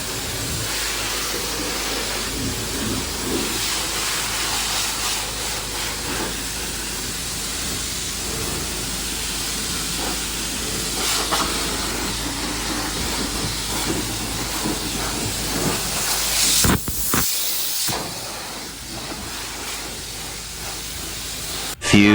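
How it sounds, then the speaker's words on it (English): At a car wash, a high-pressure spray hisses steadily against a car, a loud broadband rush that shifts slightly in tone as the jet moves, with a short break near the end and no talking. "So we're cleaning it here in the car wash."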